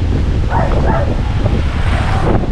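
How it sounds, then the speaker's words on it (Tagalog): Strong wind buffets the microphone with a continuous low roar, loud and close, in an open farm field, with a faint animal yelp briefly audible early on. "Pagkalakas ang hangin dito."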